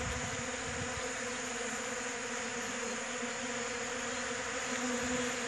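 Honey bees taking ground pollen from a feeder in early March make a steady, dense buzzing hum. The swarm sound is close, continuous and even, with no voices over it.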